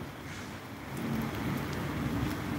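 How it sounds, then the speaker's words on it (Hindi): Heavy rain pouring down steadily outdoors in Jalandhar, Punjab, a dense close hiss that grows louder partway through, with no voices. "अभी बारिश जोर पकड़ने लगी है।"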